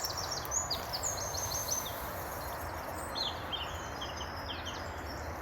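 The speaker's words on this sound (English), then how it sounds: "There's like a cacophony of bird calls here, it's brilliant." Wild birds calling in Northumberland woodland, a busy mix of high chirps and repeated trilling phrases layered over a faint, steady outdoor hiss, with the calls coming from a moderate distance.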